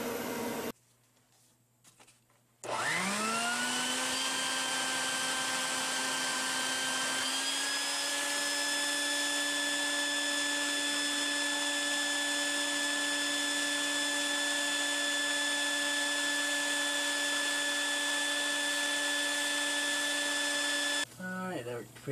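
A vacuum cleaner switches on with a rising whine, then roars steadily at close range for a long stretch, sucking debris from a 7.4L engine in a 1988 Chevy P30 RV, before cutting off.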